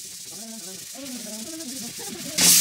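Lacquered wood being smoothed with 220 grit sandpaper, a close, soft, steady rubbing scrape with rhythmic strokes, ending in a louder hiss.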